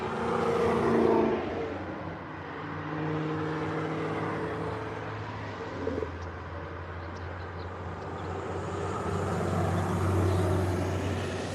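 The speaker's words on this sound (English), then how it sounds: "here come a school bus" A school bus drives past outdoors, a broad engine rumble that swells, holds steady for several seconds and eases off, with another vehicle swelling nearby toward the end.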